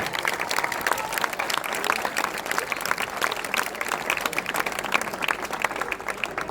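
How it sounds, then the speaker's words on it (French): An audience at a mountain bike cross-country eliminator championship claps steadily, a dense, even patter of many hands that keeps going without pause. "À nouveau les applaudissements pour Louison Berthelot."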